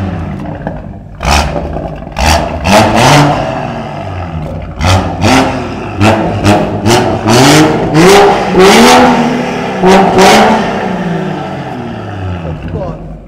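A 550 hp BMW M140i revs hard in repeated bursts, its engine rising and falling loudly over several rising sweeps, with people talking in between.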